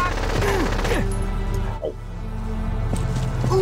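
Gunfire in the strategy video game Valkyria Chronicles, a loud dense burst of rapid shots with crashing impacts, followed by quieter game sounds and scattered effects.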